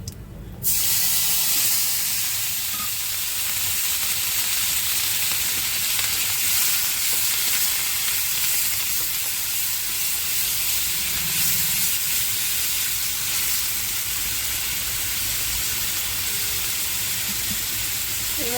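Onion and garlic paste sizzles and fries in a pan, a loud, steady hiss that runs unbroken after a sharp initial burst as the paste hits the hot oil.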